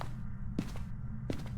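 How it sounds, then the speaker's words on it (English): A ghost shuts a door inside a haunted house in the Phasmophobia video game, two short muffled thuds about three-quarters of a second apart over a steady low hum. "I heard it shut a door."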